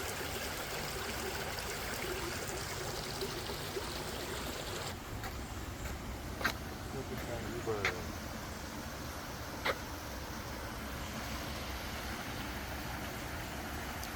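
Steady broadband rush of a clear stream flowing through a forest picnic area, continuous and even throughout with a few faint brief clicks and chirps over it.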